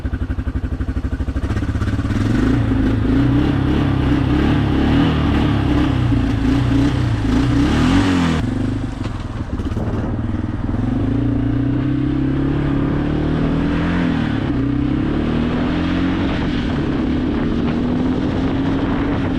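A cheap ATV engine idles roughly and revs up and down unevenly, its pitch rising and falling as it struggles to take throttle, steady and close throughout.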